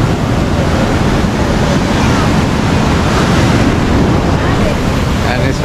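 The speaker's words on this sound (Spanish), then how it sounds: "por aquí llegamos al mar de Palomino" Rough sea waves break on the beach at Palomino, Colombia, a loud, continuous broadband roar of surf mixed with wind buffeting the microphone.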